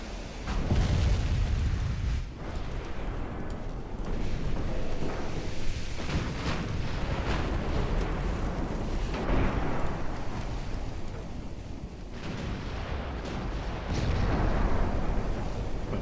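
Heavy battleship gunfire from the Scharnhorst engagement in Ultimate Admiral Dreadnoughts rumbles in repeated deep booms and explosions, loud and near, layered over a continuous low roar with no talk.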